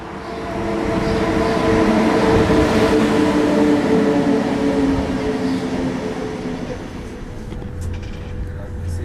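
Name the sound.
train arriving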